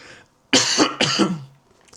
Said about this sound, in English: I can feel like I really need to cough